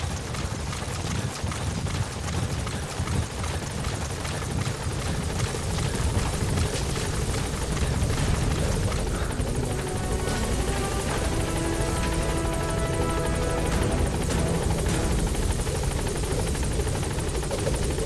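The B-Quad helicopter in Metal Gear Solid V roars as it lands and takes off, with loud, continuous rotor wash and a rising whine as it gains altitude.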